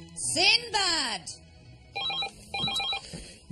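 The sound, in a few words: telephone ringing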